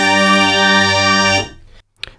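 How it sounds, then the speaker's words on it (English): A Yamaha DX7 FM synthesizer plays its vintage strings 4 patch: one loud sustained string-like chord held for over a second, then a quick decay into silence with a faint click at the end. "And vintage strings 4 sounds like this"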